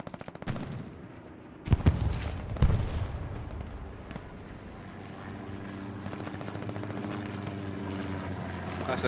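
A recon plane flying over a battlefield in the video game Hell Let Loose, a sustained droning engine hum building through the clip, with loud gunshot bursts early on and battle noise around it.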